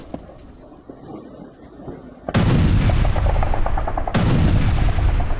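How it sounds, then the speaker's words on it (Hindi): Russian cruise missile explosions over Dnipro, Ukraine: a sudden loud blast cuts through a quiet background, followed by sustained heavy rumbling, then a second sharp boom a couple of seconds later, both loud and close. "निप्रो के कई इलाकों में कैसे धमाके सुने गए"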